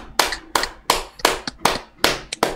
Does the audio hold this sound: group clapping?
yes